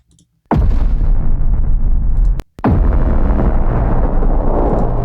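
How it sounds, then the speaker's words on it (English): Heavily distorted, degraded boom impacts from a sample pack: a sudden loud, crushing blast that sustains as a gritty rumble, cuts out briefly, then a second boom hits and rolls on just as loud. "heavily distorted booms. Degraded impacts."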